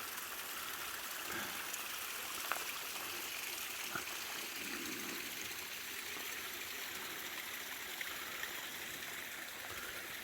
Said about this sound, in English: Just a gorgeous hearing that, the sound of the creek.